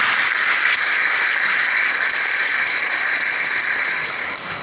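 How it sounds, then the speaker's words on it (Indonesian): Audience applause after a speech at a government event in Indonesia on preventing illegal migrant workers and human trafficking, a loud, dense, steady wash of many hands clapping throughout, tapering slightly at the end. "Tepuk tangan buat masyarakat Indonesia."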